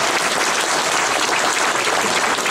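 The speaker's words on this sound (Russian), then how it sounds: "Просто аплодисменты Сафа Семеновичу." Steady, dense applause fills the hall for an award recipient honored with a governor's certificate at the 75th anniversary celebration of the Ivanovo 308th Aviation Repair Plant, loud and continuous throughout.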